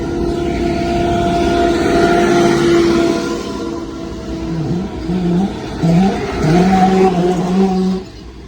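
A motorcycle engine running steadily on a road near a salt mine, its drone close and continuous with pitch shifts as it revs and changes speed toward the end.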